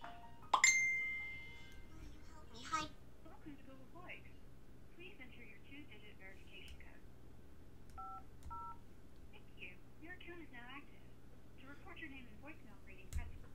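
An automated phone verification call comes through, opening with a ring and a burst of keypad tones, followed by scattered beeps and short tone pairs while a voice talks quietly underneath.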